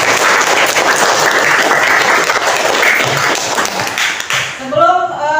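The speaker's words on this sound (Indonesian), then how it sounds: "Tepuk tangan dulu untuk kalian." Schoolchildren in a classroom clap together in loud, sustained applause for themselves at the end of a lesson, tapering off as a few voices break through near the close.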